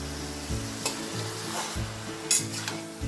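A banana stem dish for chapor ghonto sizzles in a pan while being stirred, with several scraping stir strokes over a steady frying sizzle, close and clear.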